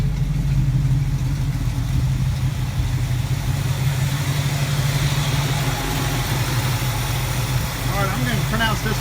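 A Plymouth Duster 360 V8 idles steadily with a quiet exhaust after a noisy lifter repair, a constant low rumble running unbroken throughout, with a faint chirping sound near the end.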